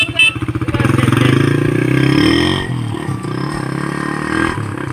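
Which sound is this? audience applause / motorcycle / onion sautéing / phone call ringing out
motorcycle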